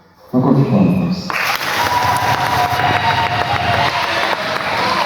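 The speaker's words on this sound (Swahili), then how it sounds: "Makofi kwa Mwokozi." A crowd of young people at a Catholic parish gathering in Arusha breaks into loud, sustained applause and cheering, following a voice speaking just before.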